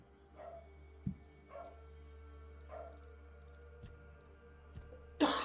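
A dog barking indoors, several short muffled barks spaced about a second apart at moderate distance, with a louder burst of noise at the end over a steady low hum.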